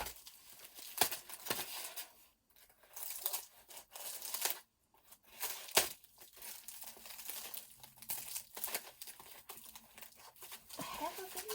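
Scissors cutting through crinkly plastic packaging containing polystyrene, with irregular crunching, snipping and crinkling bursts close by over several seconds, separated by brief pauses.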